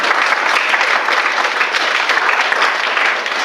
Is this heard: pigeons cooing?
no